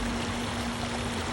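Floodwater from a swollen river rushes over a road in Kathmandu, a continuous loud roar of flowing water with a faint steady hum beneath it.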